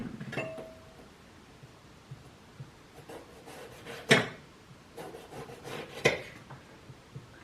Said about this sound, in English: we'll begin by thinly slicing the aubergine